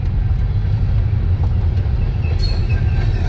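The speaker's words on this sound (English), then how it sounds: "There's a train passing by as well." A steady, heavy rumble of a passing train, continuous and fairly loud throughout, with faint rattling on top.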